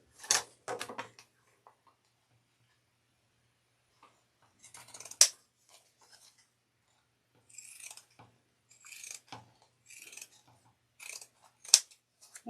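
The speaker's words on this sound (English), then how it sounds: "I'm going to grab my pinking shears that apparently has everything on it. I'm going to first cut where my opening is" Pinking shears snip through fabric in short crunchy bursts, a few quick cuts at the start, then after a pause a loud cut near 5 seconds and a steady series of close, crisp snips from about 8 seconds onward.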